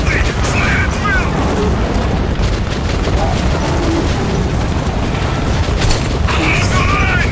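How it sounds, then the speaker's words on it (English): Sustained gunfire and booming battle noise in the video game Metro 2033 Redux, a dense, loud, continuous barrage with rattling shots layered over heavy rumble throughout. "Shield, fire at will!"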